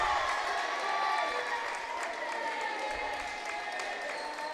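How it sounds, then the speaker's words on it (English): Crowd at a high school boys basketball game between Pine City and Mille Lacs cheers and applauds as a substitute checks in, a steady, moderately distant wash of clapping and voices with no pauses. "You can hear the cheer for him as he checks in."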